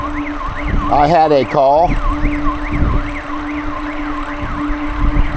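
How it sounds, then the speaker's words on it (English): A car alarm wails nearby in a steady looping up-and-down pattern throughout, loud and persistent, while someone speaks briefly over it near the start. "Sound like somebody's car alarm."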